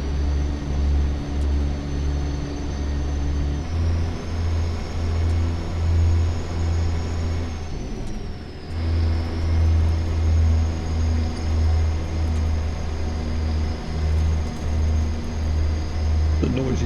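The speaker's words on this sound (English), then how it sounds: "The noisy truck, huh?" Truck engine drone in American Truck Simulator, a steady low rumble that runs throughout, dips briefly in the middle, then resumes at the same level.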